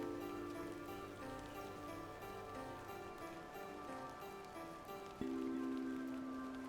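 Rain in the point-and-click adventure game The Excavation of Hob's Barrow hisses faintly and continuously beneath low, sustained musical tones, with a sudden shift in the background drone near the end.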